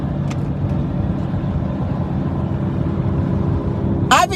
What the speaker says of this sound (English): That truck can't make too much noise.